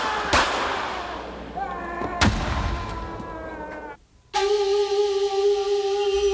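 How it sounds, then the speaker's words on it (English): Explosions and sharp blasts during Gurkha live-fire training, a few sudden loud bangs with ringing tails, followed by a steady tonal hum after a brief hush. "Instructors control the action with explosions, sound effects"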